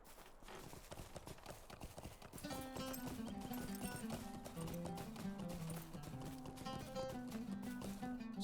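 Horse hooves clip-clop steadily while riding in the video game Lord of the Rings Online, through the cold Misty Mountains, with orchestral game music swelling in partway through.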